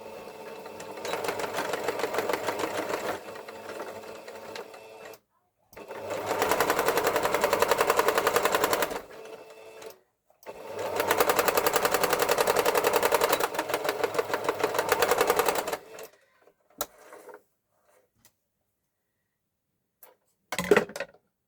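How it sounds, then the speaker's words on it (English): A sewing machine runs a zigzag stitch on a circle dress in three long, loud, rapid mechanical bursts separated by short pauses, then stops, leaving a couple of faint clicks. "a little zigzag stitch"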